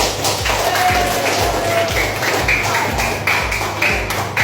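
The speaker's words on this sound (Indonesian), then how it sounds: "Sekarang kita tepuk tangan dulu ya." Students in an Indonesian classroom clap for a group that has just presented, a burst of close hand claps with a few sharper taps and thumps mixed in, steady and fairly loud throughout.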